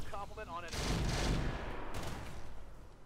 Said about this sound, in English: Let's fire everything.